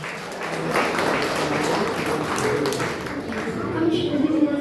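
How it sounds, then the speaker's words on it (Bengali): A crowd claps loudly at a students' handcraft display, a dense continuous patter of many hands that swells toward the end, mixed with talk. "আর এই দুটো কি একবার জোরে হাততালি দিতে হবে"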